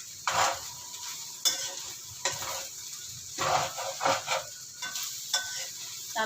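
Kangkong stems are stir-fried into garlic fried rice, the sizzle broken up by repeated scraping, tossing strokes of a spatula against the pan at close range.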